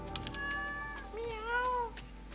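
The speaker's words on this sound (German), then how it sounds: "Da ist meine Katze." A cat in the Stardew Valley farming game gives two soft meows in a row, the second longer and bending in pitch, quiet and close over a faint background hum with a couple of light clicks.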